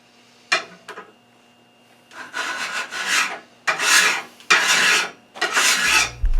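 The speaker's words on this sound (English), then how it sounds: "The first file I tried was clogging up and gouging the surface by dragging long shavings" A coarse file rasps along a steel Roman gladius hispaniensis blade during stock removal, a single faint stroke followed by a series of longer, louder strokes with short pauses between them, close by.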